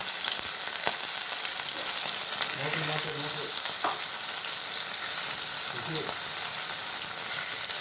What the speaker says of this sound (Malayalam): അപ്പോൾ നമുക്ക് മീൻ ഇതിലേക്ക് ഓരോന്നായിട്ട് എടുത്ത് വെച്ച് കൊടുക്കാം.